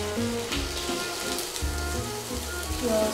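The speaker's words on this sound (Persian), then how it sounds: "کمی روغن، زیاد نه، برای تفت دادن پیازمون و سیرمون" Diced onions sizzle and fry steadily in hot oil inside a pot, a continuous close crackling hiss with small bursts throughout, and no voices over it.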